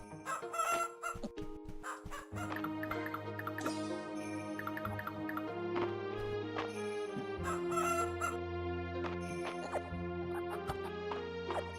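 Chickens cluck and a rooster crows on a farm in the video game Fields of Mistria, the calls repeating over a bed of light melodic background music.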